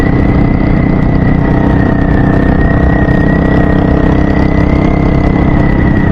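A Hawk 250 motorcycle idling on its stock motor gives a steady, loud, fairly high-pitched drone with a constant whine above the engine note, unbroken and without talk.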